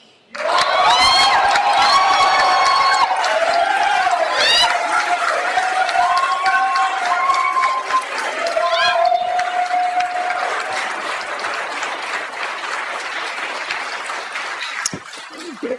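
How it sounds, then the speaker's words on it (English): An audience at a Los Angeles Department of Public Works meeting breaks into sustained applause with scattered cheers, loud and dense at first, then fading gradually over about fifteen seconds. "if you can keep your applause to a minimum, we would greatly appreciate it"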